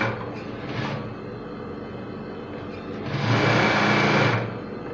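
An industrial sewing machine runs at full speed in a short burst, then a longer one, giving a fast buzzing mechanical whir that stands out clearly over the low motor hum between bursts.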